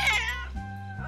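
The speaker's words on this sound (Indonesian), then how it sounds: "Kucing liar, biar aku periksa." A wild kitten gives a single clear, near meow that rises and falls over about a second, with a brief softer tail at the end.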